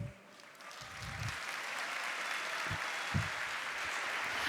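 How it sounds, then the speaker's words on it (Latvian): Audience applause and cheering after a speech, a steady dense wash of clapping that carries on evenly throughout, with a few low thumps near the start and no talking over it. "Aplausi, ovācijas"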